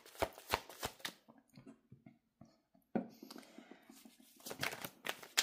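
A deck of tarot cards is shuffled in quick riffling bursts, with soft pauses and more shuffling, close and fairly quiet.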